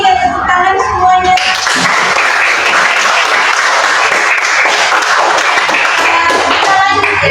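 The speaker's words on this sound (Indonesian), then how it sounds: "kita tepuk tangan semuanya" Classroom applause from students, a dense burst of many hands clapping loudly and steadily after a brief moment of voices, continuing without pause to the end.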